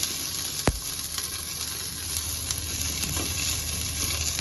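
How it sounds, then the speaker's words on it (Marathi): Chopped vegetables roasting with onion in hot oil give a steady, loud, close sizzle with a faint hiss, broken early by a single sharp knock of the spoon against the pan. "दोन मिनटं आपण कांद्यावरती भाजून घेऊया तेलाबरोबर"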